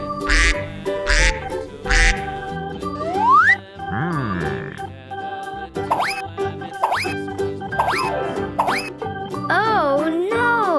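A duck quacks repeatedly in short nasal bursts, close and loud, mixed with playful sliding boing effects and brief voices, part of a children's farm-animal sound game.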